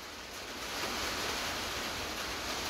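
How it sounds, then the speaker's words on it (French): Rain falls steadily outside as a dense, even hiss with no individual drops standing out, moderately quiet and unbroken for a few seconds. "Mais c'est la pluie, ce bruit."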